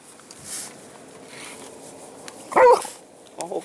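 A puppy gives a single short bark near the end, with a brief yip after it, over a faint quiet background outdoors in Sundre.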